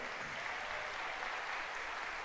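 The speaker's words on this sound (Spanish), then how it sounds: "Demos un aplauso bien grande, bien poderoso al Rey de Reyes y Señor de Señores." A church congregation claps together in a steady, sustained wash of applause that holds at an even level from start to finish, with no voices coming through.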